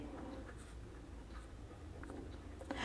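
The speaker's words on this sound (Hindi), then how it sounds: "इनकम को हम ऊपर लिख लेते हैं और इसको नीचे लिख लेते हैं" Letters being written on a board during a logic puzzle lesson, faint short scratchy strokes scattered across a quiet room, close but soft.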